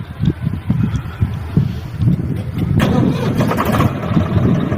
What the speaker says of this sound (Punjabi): ਉਹ ਬਾਈ ਜਨਰੇਟਰ ਸਟਾਰਟ ਕਰਦਾ ਵੇ